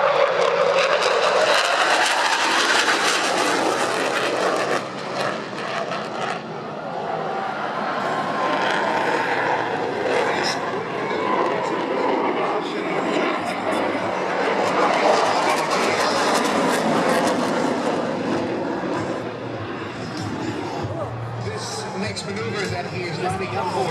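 A Dassault Rafale fighter jet flies a tight, high-speed display at the Singapore Airshow 2016, producing a loud, sustained roar that swells and fades over a distant commentator and crowd.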